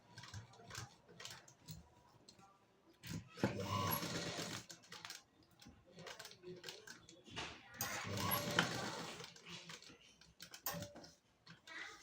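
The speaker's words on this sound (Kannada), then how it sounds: "ಹೊಲಿಗೆ ಹಾಕಿದ್ದಾಯಿತು ಸ್ನೇಹಿತರೆ." A sewing machine stitches the back neck of a work blouse, its mechanical whirring rising in two longer bursts between shorter runs and pauses, fairly close and moderately loud.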